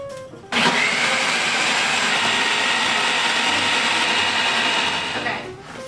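A food processor blending strawberries, berries and lime juice into sorbet, whirring loudly and steadily for about five seconds before the motor winds down.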